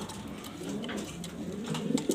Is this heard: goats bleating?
no